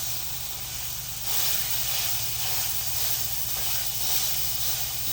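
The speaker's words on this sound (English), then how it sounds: "we're going to take this press and press our patty down. Right into those onions" A beef patty pressed down onto onions on a hot griddle sends up a steady, loud hissing sizzle that swells after the first second and holds evenly throughout, with no talking.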